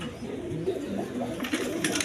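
Red pigeons held in a wholesale market pen give low, soft cooing calls, with a faint rustle and light chirps near the end.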